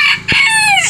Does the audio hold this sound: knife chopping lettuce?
no